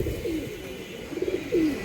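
Giribaz pigeons cooing in short, soft rolling calls, a couple of low coos close by against steady background noise, with no voices.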